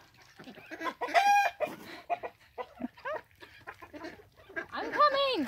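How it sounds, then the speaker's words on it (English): Homestead hens cackle loudly and close by after laying an egg, a series of sharp, rising squawks and clucks in uneven bursts with short gaps between. "I hear somebody laying an egg, Randall."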